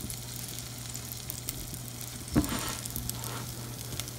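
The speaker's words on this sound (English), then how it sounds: "Once the pot is hot, I'm going to add butter." Butter sizzling in a hot pot while making a sweet potato dessert, a steady soft crackle with a single brief louder hiss as it hits the metal, moderately quiet and close with no voices.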